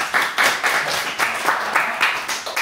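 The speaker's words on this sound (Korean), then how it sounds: "박수" Students in a classroom clap together after a classmate's presentation, a quick, even rhythm of group claps roughly four per second, close and moderately loud.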